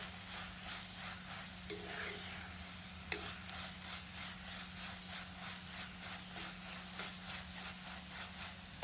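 Onions sautéing in a pan for pepper egg roast give a faint, steady sizzle and hiss with occasional light spoon clicks, a low constant hum underneath, and no talking.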